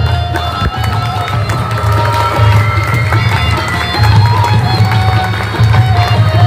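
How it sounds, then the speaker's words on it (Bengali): An audience at a Bengali stage drama performance claps while standing, with a dense sustained patter of hands mixed with crowd noise and a few voices, fairly loud and continuous throughout. "আপনারা সবাই দাঁড়ান, দাঁড়িয়ে ওদেরকে একটু হাততালি দেন"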